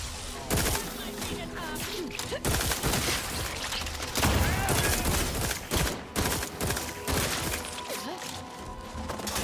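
Gunfire aimed at the player in The Outer Worlds 2 video game, repeated sharp shots and bursts with impacts scattered across the clip, loud and close amid other game sounds.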